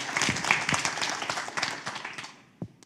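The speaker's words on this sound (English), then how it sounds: "let's give it a round of applause for that." Symposium audience giving a round of applause, a lively burst of many hands clapping that gradually thins and fades, with a few last scattered claps near the end.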